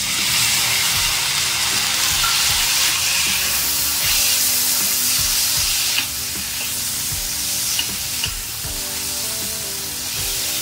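Vegetables and tomato frying together for masala oats, a loud, dense sizzle close up with regular scraping and tapping as they are stirred, easing slightly toward the end.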